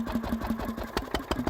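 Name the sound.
governor-controlled steam engine running at steam rally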